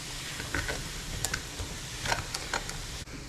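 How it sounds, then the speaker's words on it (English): Vegetables for spaghetti bolognese sauté in a pan, a soft steady sizzle with occasional light scraping clicks of stirring, close and fairly quiet. "We are going to just saute these."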